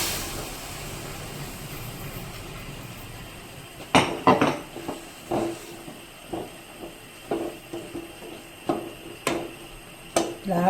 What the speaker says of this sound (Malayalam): ഇതിലോട്ട് നമുക്ക് വേവിച്ച് വെച്ച വെള്ളത്തോടെയുള്ള കടല ഇടാം.